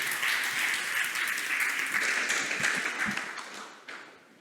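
Applause from an audience after a startup pitch presentation at a competition final, a dense burst of clapping that holds steady and then tapers off within a few seconds.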